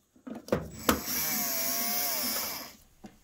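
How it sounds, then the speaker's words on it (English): A powered screwdriver whirs for about two seconds while removing screws from a furnace's plastic header, preceded by a couple of sharp clicks and taps, close and fairly quiet. "There are so many screws to remove."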